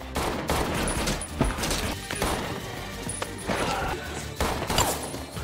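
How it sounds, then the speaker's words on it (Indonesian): Guards fire on the hitman in a museum shootout from a John Wick film, a dense, loud fusillade of gunshots with overlapping bursts and impacts crowding the whole stretch. "Sementara pengawalnya menembaki John dan secara bertahap ditembak olehnya."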